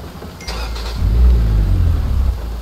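A car engine in an American Truck Simulator or Euro Truck Simulator 2 mod idles and then revs up, a loud close low rumble that swells after a second and holds steady without talk.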